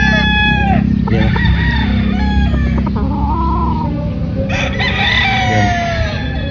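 Popeye Grill gamefowl roosters crow loudly and close by, with several long drawn-out crows overlapping clucks from other birds in a farm yard. No one speaks.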